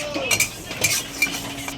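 Moong dal fries in a pot for khichuri while a spoon stirs it, giving a few sharp metallic scrapes and clinks over a low, steady sizzle.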